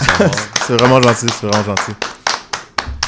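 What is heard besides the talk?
clapping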